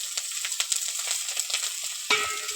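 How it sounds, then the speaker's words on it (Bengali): Five-spice, chopped onion and slit green chili fry in hot oil for a thin katla fish curry, giving a steady close sizzle with a brief clatter of stirring near the end. "ভালো করে একটু ভেজে নেব।"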